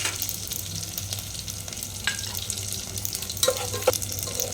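Curry leaves frying in oil with green chillies for gongura rice, a steady close sizzle broken by a few sharp pops and spatters toward the end.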